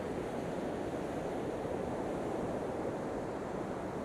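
Heavy ocean surf breaking on a beach on the Holderness Coast, a steady, dense roar of waves with wind noise over the microphone, continuous and loud with no voices.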